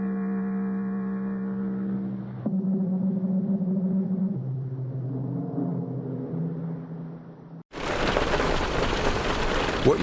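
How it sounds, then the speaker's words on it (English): Hail pelts Hardie fiber cement siding in a dense, loud, steady hiss-like clatter that cuts in abruptly after a stretch of sustained musical tones and continues to the end. "What you're hearing is Hardie Fiber Cement Siding living up to its reputation as the siding that handles hail impact with ease."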